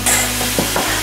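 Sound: sour cream sauce coming to a boil while stirred

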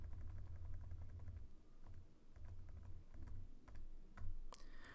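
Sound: typing on a computer keyboard

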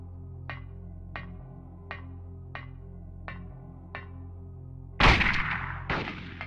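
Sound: gunshots from video game Silent Hill

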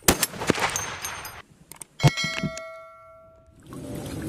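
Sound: toy gun firing sound

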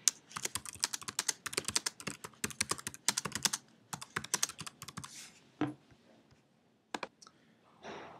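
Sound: typing on a computer keyboard

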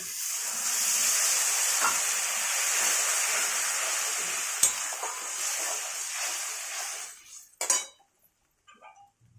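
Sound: onions and potatoes sautéing in pan

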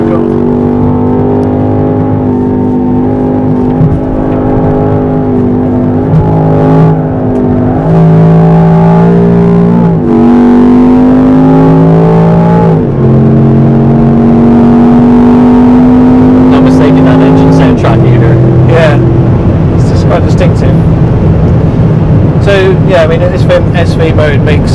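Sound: Range Rover Sport SV engine accelerating at speed

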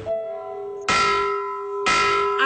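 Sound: prison bell ringing for visiting hours

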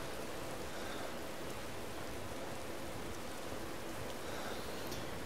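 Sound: rain weather in the video game Morrowind

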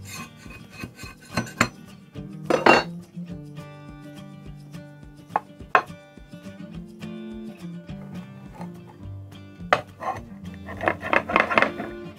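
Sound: biscuits being put out on a plate

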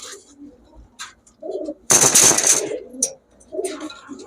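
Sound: pigeons cooing, army breed pigeon

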